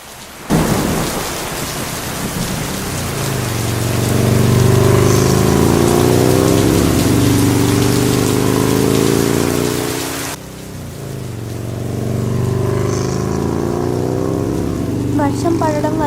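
Heavy rain falls hard and constantly while deep thunder rumbles and rolls loudly in long waves, followed by a softer patch of rain with faint traffic.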